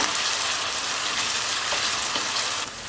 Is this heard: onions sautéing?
yes